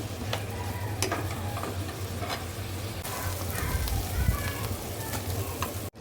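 Liver and lung bhuna stir-fried in a pan, giving a steady close sizzle with scraping stirs throughout, under a speaking voice.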